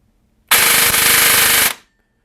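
An M4 AEG airsoft gun with a brushless motor fires one rapid full-auto burst of a little over a second, loud and close, with no talk.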